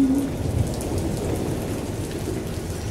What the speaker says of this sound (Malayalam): മാളവത്തിൽ മഴ ഇരമ്പുന്നു